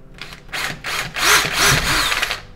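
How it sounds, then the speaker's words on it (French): A 2 mm bit drilling a pilot hole in metal, a short burst of whirring and grinding that rises and falls over a few seconds, loud and close. "et je viens forer."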